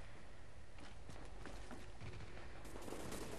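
Rapid gunfire in The Division video game, repeated bursts of shots and crackling impacts heard fairly quietly and continuously over a few seconds.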